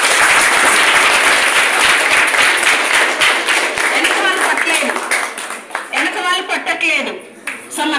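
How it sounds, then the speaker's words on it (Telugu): An audience at an awareness programme claps in dense, loud applause that thins and breaks into scattered claps, while voices rise underneath as it fades. "క్లాప్స్ కొట్టండి"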